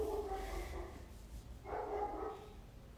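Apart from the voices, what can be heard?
dog barking in the background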